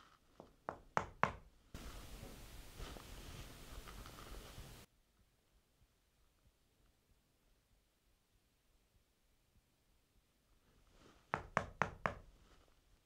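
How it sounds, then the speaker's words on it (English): Knocks in a pub at night: a short cluster of sharp raps opens, a burst of broadband noise follows, then near silence before another quick series of knocks near the end. "I don't know if this mic is picking up these knocks."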